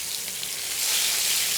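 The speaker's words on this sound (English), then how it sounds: "I'm going to start them off in this hot oil on a frying pan" Thick chicken legs sizzle loudly in hot oil in a frying pan, a close, dense crackle and hiss that swells slightly partway through and stays steady, with no voices over it.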